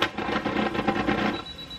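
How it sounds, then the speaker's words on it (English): A home sewing machine struggling while trying a back stitch on a potholder, a close, loud, rapid mechanical whirring and clatter that runs for about a second and a half and then stops. "I'm going to do a back stitch"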